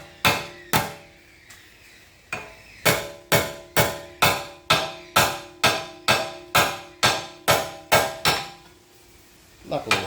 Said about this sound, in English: I'm just going to use a hammer to bring it back in line.